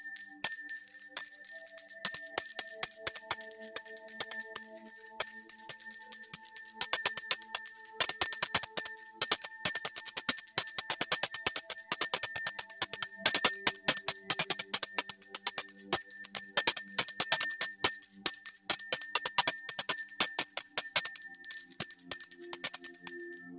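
A bell is rung again and again over a long stretch, bright metallic strikes with sustained, shimmering overtones that ring on between hits, loud and close with no voices.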